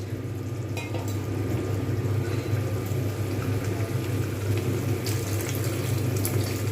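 Boiled water pours into a pan of paneer curry, a steady close watery rush with a low bubbling hum running the whole time and no talking.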